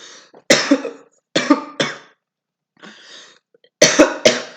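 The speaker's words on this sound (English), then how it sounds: "I'm coughing because of the macaroni" A person coughs in repeated harsh bursts, a cluster early, a softer pair midway, then a loud final run, with no talking.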